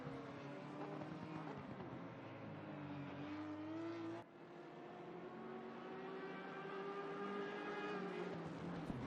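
BMW and Audi GT3 race cars lapping the Zolder circuit in a racing video game, a steady loud engine drone with rising and falling pitch and a brief dip midway, with no talk.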